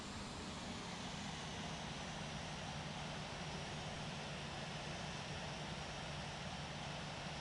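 Airbus A380 engines at takeoff in the Infinite Flight game at Sydney Kingsford Smith, a steady, loud broadband roar holding evenly throughout with no voices.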